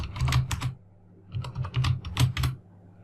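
Code is typed on a computer keyboard in short bursts of rapid key clicks, two or three quick runs separated by brief pauses, close and crisp.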